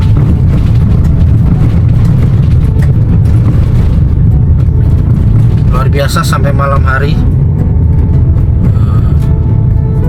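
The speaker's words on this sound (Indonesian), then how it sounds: "Terus bergerak ini truk-truk besar." Large construction trucks rumble steadily at night on an unpaved road at a major building site, a loud continuous engine drone with someone talking over it partway through.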